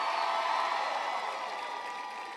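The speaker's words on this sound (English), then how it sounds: "can everybody please give Sonia a big round of applause for that great introduction?" A large rally crowd at a presidential campaign speech in Columbus, Ohio, applauding and cheering for an introduction, a dense wash of clapping that starts loud and slowly fades over a couple of seconds.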